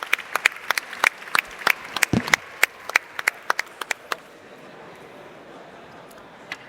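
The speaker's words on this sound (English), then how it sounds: "huge round of applause for my 3 hosts and moderators" Sparse applause from a conference audience for the hosts and moderators, individual hand claps spaced out and fairly distinct for about four seconds, then fading into quiet room tone with one late clap.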